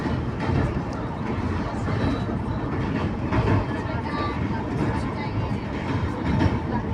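A Howrah Mail train crosses the Mahanadi river rail bridge, a dense, steady rolling rumble with faint clickety-clack pulses running unbroken throughout, close and loud, with indistinct voices mixed in.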